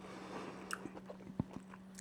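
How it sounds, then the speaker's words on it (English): Crunchy meat samosa, a Ugandan street snack, bitten and chewed up close, giving a few faint, sharp crunches scattered over a quiet background with no talking. "So I'll take another bite"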